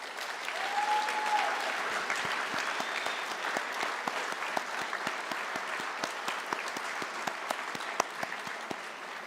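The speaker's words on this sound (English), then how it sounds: "Round of applause for our top 10." Steady audience applause fills a school senior honors night, sustained clapping from a seated crowd with no speech over it.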